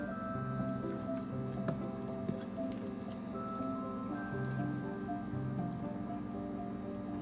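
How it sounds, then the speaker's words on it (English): Thick butterscotch marshmallow mixture is poured from a pot into a greased pan, giving faint, soft squishing and pattering sounds over a steady musical background. "we're going to go ahead and pour it into our greased pan"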